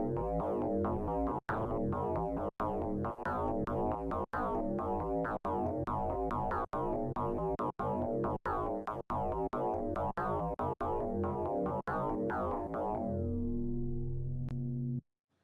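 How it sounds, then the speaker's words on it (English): Synthesized FM bass plays a repeating sequence of punchy, metallic-toned notes in a steady rhythm, loud and upfront, ending on a sustained note that fades out. "So that's a pretty good FM bass sound"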